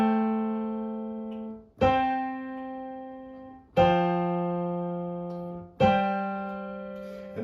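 Single piano notes played one at a time, each struck note sustaining and decaying for about two seconds before the next, four notes in a slow, simple melody with no talking.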